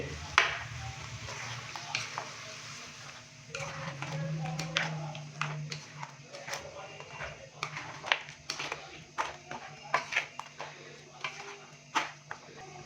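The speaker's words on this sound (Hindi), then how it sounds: "स्पाइसेस डालने के बाद अच्छे से हम इसको मिक्स करेंगे" A spoon scrapes and clinks through beef with red chili powder and turmeric in a pan for a beef masala curry, with irregular scraping strokes over a soft sizzle and a low background hum, fairly quiet and close.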